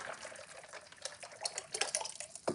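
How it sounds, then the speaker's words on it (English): Water poured into a container of ceramic glaze mix, probably a recycled plastic peanut butter jar, for cone 6 glazing: a close, faint, uneven splashing trickle with small drips and a brief knock near the end, no talking. "I'm just gonna pour the rest of the water in here."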